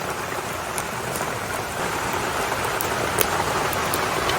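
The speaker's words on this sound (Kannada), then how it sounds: "ಮಳೆ ಸಹ ಬರ್ತಾ ಉಂಟು ಜೋರು" Heavy rain pours steadily, a dense continuous hiss of drops drumming on surfaces with no pauses.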